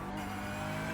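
A Porsche 992 Cup race car engine in the iRacing sim at Zandvoort, pulling hard under acceleration: a dense, steady rasping drone fills the whole brief second at fairly low level, with no voices.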